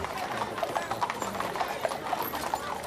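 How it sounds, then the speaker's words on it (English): Horses' hooves clip-clop at a steady walking rhythm in a slow funeral procession, moderately distant, with crowd ambience around them. "You then had the horses' hooves, and you could hear the wheels of the carriage."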